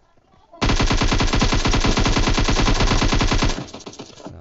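Rapid automatic gunfire in a shooter video game, a loud continuous burst of closely spaced shots lasting about three seconds, heard alone after a brief quiet start.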